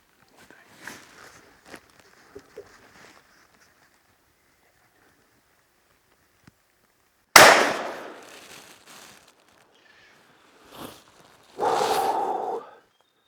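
A rifle shot fired at a red deer stag in the hills rings out as a single sharp, loud crack with a trailing echo, preceded by faint rustling and followed by quieter movement sounds.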